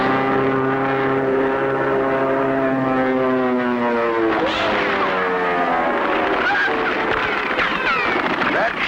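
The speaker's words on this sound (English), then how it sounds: "Look, here comes that plane again." A propeller airplane in a cartoon drones overhead with a strong harmonic engine hum that sweeps downward in pitch as it passes, loud and near, with noisier rasping near the end.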